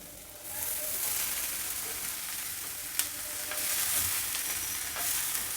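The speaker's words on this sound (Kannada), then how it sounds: "ನೋಡಿ ಈರುಳ್ಳಿ ಸ್ವಲ್ಪ ಫ್ರೈ ಆಗಿದೆ ಒಂದು ಎರಡು ನಿಮಿಷ ಫ್ರೈ ಆದಮೇಲೆ ಹಚ್ಚಿಟ್ಕೊಂಡಿರೋ ಮೂಲಂಗಿನ ಇದರಲ್ಲಿ ಹಾಕ್ತಾ ಇದ್ದೀನಿ" Radish and onion fry in hot tempering oil in a pan, giving a steady close sizzle with occasional stirring clicks and no talking.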